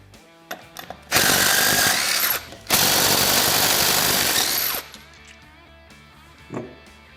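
A power tool whirs loudly in two long bursts, separated by a short pause and framed by clanks, as front wheels and tires come off a Polaris RZR Trail S 1000.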